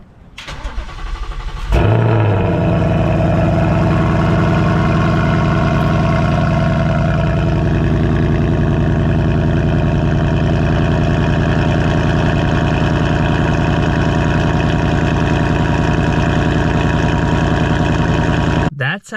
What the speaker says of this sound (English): I'm gonna give you a cold start on my Mustang GT.